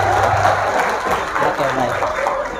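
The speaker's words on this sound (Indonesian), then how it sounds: "Tepuk tangan buat jurusan ini." Applause from students at a vocational high school religious gathering in Tabalong, South Kalimantan, a dense steady clapping that runs the whole moment with voices talking over it.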